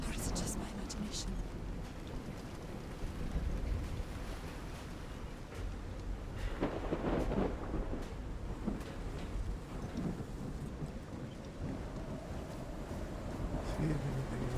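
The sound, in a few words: thunderstorm in the video game Call of the Sea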